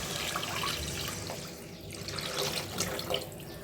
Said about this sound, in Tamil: அந்த தண்ணி தேவையான அளவு தண்ணியும் சேர்த்துருக்கேன் இப்போ அதோடு இதை சேர்த்துக்கோங்க